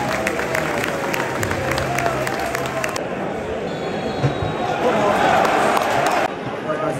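A Premier League football crowd at Stamford Bridge during Chelsea versus Manchester United roars and claps in a dense, continuous wash of noise, with a nearby voice talking over it.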